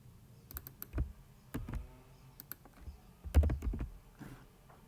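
Keys on a computer keyboard clack in short irregular bursts during programming work, with a louder cluster of strokes near the end, heard close up without speech.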